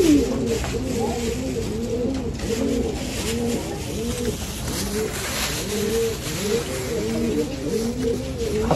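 Pigeons cooing in a loft, several birds giving repeated soft, rolling coos that overlap in a steady stream, close by over a constant background hum.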